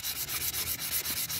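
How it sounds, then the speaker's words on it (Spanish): A damaged car wheel rim is sanded by hand in rapid, rhythmic back-and-forth strokes, a loud, close, steady rasping with no talking. "Entonces nosotros nada más lijamos."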